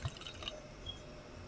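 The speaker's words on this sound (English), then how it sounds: "let's pour a little in the glass and give this a little taste." Pinot Noir wine is poured into a glass, a soft, close liquid trickle with a few light splashes at the start, quiet and brief with no talking.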